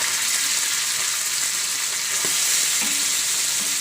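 Tilapia fish frying in hot oil, a dense, even hiss of sizzling close up with a few faint knocks of a utensil, steady throughout and without voices.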